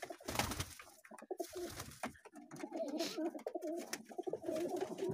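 Pigeons coo in a dovecote, a continuous low throaty burble from several birds close by, with soft rustling and wing shuffles mixed in.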